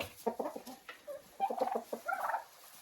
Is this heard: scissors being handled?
no